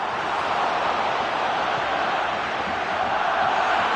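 A stadium crowd in the football video game PES2016 sends up a steady, dense roar of cheering that holds evenly throughout, with no commentary over it.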